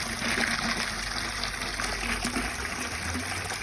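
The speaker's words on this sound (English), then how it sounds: "I'll just spray that off without getting wet" A steady hiss of water spraying from a hose runs continuously at moderate volume, with no voices.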